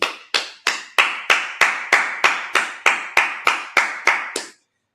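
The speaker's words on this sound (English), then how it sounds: "Let's clap it up." A congregation at a Sabbath service claps in unison, about fourteen sharp, evenly spaced claps at a steady beat with a short ring after each, loud and close, stopping abruptly.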